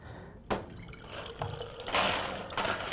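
A mixed drink poured back and forth between containers at a mixology workshop, with a sharp clink, then a continuous splashing stream that grows louder and more aerated, close by.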